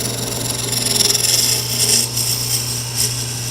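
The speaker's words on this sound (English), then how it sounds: "the shape lends itself to working with strictly the roughing gouge" Wood being turned on a lathe with a roughing gouge while shaping a toothpick dispenser, giving a steady close scraping hiss over a constant motor hum with slight surges as the tool cuts.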